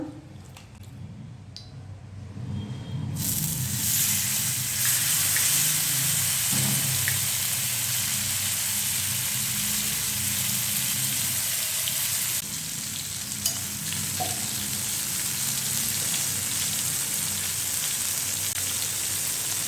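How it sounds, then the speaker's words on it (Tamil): Fish sizzling steadily in a little oil in a pan, a constant loud frying hiss that swells after a quieter start and continues without a break. "கொஞ்சமாக எண்ணெய் விட்டுடலாங்க. ஒரு ஃபிஷ்ஷு போடலாங்க."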